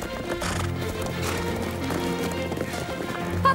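Horses gallop close by in a dramatic film scene, hooves clip-clopping rapidly with a whinny and neighing over a dense, loud backdrop that stays steady throughout.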